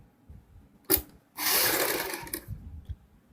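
Domestic sewing machine running in two bursts, a short one and then a longer steady whirring run, while stitching the facing of a front boat-neck garment at home; close and fairly quiet with no talk.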